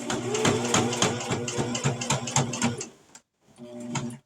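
A sewing machine stitches fabric in a quick, even mechanical chatter, running steadily close by, then stopping briefly before a short second burst of stitching.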